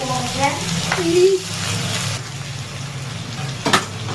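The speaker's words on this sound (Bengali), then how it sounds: "তেলে ভেজেছি ওই তেলেই ভাজা করে নিচ্ছি" Prawns frying in oil with salt, a steady close sizzle with a few stirring scrapes, while a voice speaks over it at the start.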